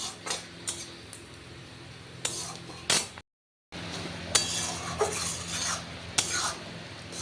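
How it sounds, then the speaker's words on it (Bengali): Dal with turmeric and onion is sautéed in a pan, with soft scraping stirs and clinks of a utensil against metal over a faint sizzle, briefly broken by a moment of silence. "হলুদ দিয়ে ডালটাকে ভালো মতন এর মধ্যে সাতলে নিয়ে একটু গরম জল দিয়ে দেবো"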